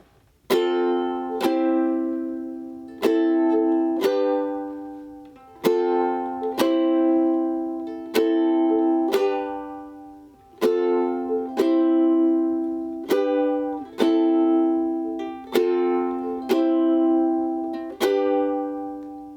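A ukulele strums chords in a steady rhythm, each strum ringing briefly before the next, clear and close with no voices.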